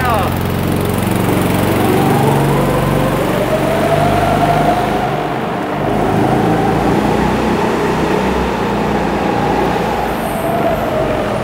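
Go-kart engine droning steadily through a lap at the Kart-O-Mania Stuttgart indoor track, a continuous loud buzzing hum with slight pitch rises and falls as it accelerates and brakes, with excited voices briefly heard.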